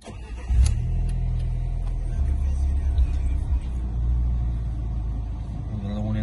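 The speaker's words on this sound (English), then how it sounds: "You can go ahead now and start the car up." A 2010s Abarth Punto Evo 1.4 turbo with a six-speed gearbox starts up, the engine catching and settling into a steady, throaty idle heard close by.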